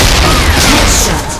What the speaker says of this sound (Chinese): 手雷！